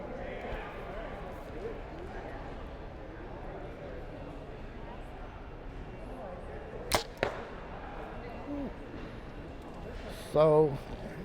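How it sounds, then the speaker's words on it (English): An arrow leaves a bow released with a thumb trigger during indoor short-range archery, giving a sharp snap and quick follow-up thud midway through a quiet stretch. A brief tonal click comes near the end. "I'm shooting with a thumb trigger."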